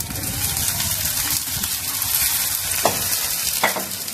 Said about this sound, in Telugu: ఇది కొంచెం వాటర్ వేస్తున్నానండి ఇందులో.